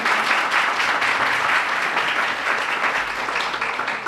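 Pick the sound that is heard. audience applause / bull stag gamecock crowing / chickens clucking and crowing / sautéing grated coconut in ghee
audience applause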